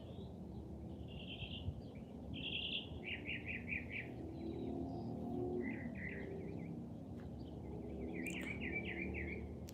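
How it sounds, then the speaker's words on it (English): Bright bird chirps and short warbling phrases repeat every second or so outdoors, moderately near, over a quiet steady background hum. "Anybody recognize that bird call? It's very pretty."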